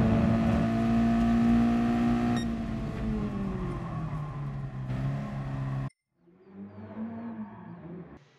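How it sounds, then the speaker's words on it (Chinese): A car in Gran Turismo Sport powers out of a corner. Its engine holds a steady tone, eases and falls in pitch, then cuts out before a quieter engine drone returns. The sound is close and moderately loud, with no voices. "就可加油门出弯"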